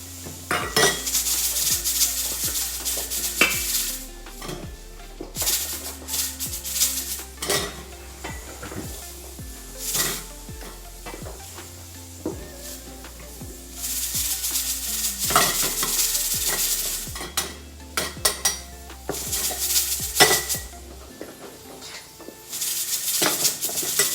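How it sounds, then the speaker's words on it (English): Cooked onions being mashed and stirred in a pot for butternut and delicata squash soup, with repeated clanks and scrapes of a utensil against the pot over a steady low hum. "Mash that down a little."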